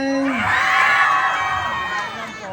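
Crowd at a barangay pageant national costume segment cheering and shouting with whoops, a loud sustained roar throughout with some high-pitched screams mixed in.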